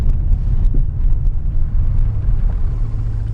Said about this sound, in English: I'll go full on brakes here.